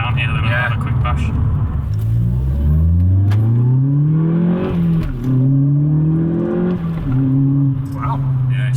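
An Audi S1 Quattro accelerates hard, its engine note climbing steadily through the revs. A brief dip marks a gear change before it pulls again, loud and close throughout the run.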